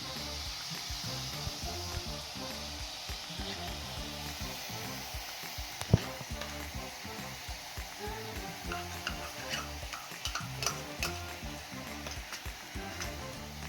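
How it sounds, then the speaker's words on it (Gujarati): A steady rhythm of scraping and stirring carrot halwa with cream in a pan, with a soft sizzle underneath and an occasional sharp clink. "તેને સરસ રીતે મિક્સ કરી લઈશું"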